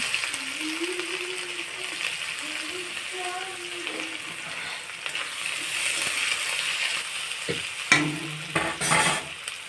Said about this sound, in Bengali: তেজপাতা, আমি পেঁয়াজ কুচিটা দিয়ে দিলাম।